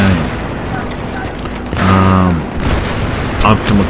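Loud gunfire and booming shots in the Metro video game, with a heavy sniper-like blast near the middle amid dense battle noise, while a voice talks over it.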